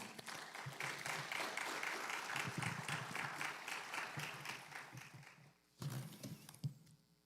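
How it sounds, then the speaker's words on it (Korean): A church congregation applauds the pastor in a steady, fairly quiet wash of clapping that fades briefly, then resumes with a short burst and trails off. "박수 한번 하겠습니다"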